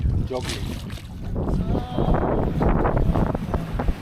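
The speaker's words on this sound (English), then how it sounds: "We're moving pretty well. Wind's finally picked up." Wind rushes steadily and loudly past a gaff-rigged Welsford Penguin trailer sailer as it moves under sail, with buffeting gusts, water noise and a voice speaking briefly near the start.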